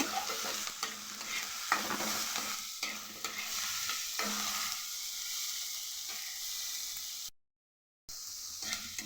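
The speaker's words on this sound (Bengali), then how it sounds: "আর এই পেঁয়াজের মধ্যে দিয়ে দেব অল্প একটু নুন ভালো করে ভাজবো" Onions with a pinch of salt sizzle in a pan, a steady close hiss broken by repeated scraping stirs, with one brief dropout near the end.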